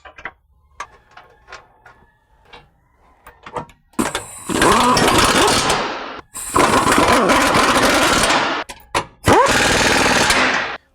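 Impact tool fastens the transfer case skid plate on a Jeep Wrangler from underneath, with loud sustained bursts of a few seconds each. Short pauses separate the bursts, and quieter clicks and handling noises come before them.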